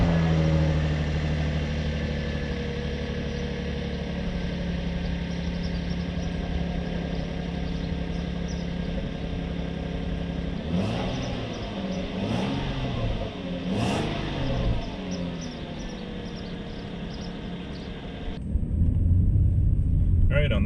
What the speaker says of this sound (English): I'll give you a cold start, and you can see for yourself what it sounds like.